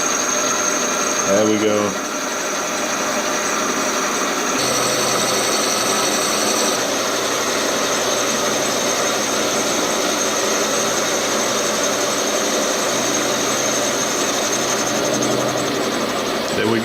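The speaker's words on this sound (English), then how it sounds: "Disengage the feed and turn off the spindle, and we did a nice cut there." A small metal lathe runs steadily with its spindle turning and the power feed engaged, cutting a part for a Simplex steam engine model, a continuous loud whine with machining tones throughout and a brief spoken remark near the start.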